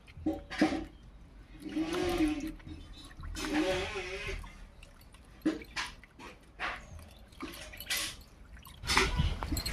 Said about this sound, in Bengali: উচ্ছেগুলোকে তিন চারবার জল পাল্টে পাল্টে ভালো করে ধুয়ে নিয়েছি